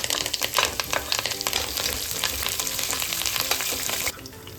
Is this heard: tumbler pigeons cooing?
no